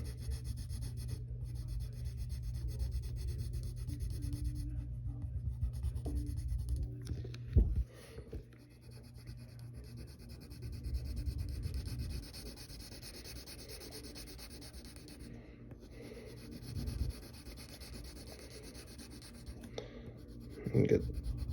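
A pencil shades on paper with the side of its lead, a soft continuous rubbing and scratching that runs in long strokes, pausing now and then before starting again, close and quiet.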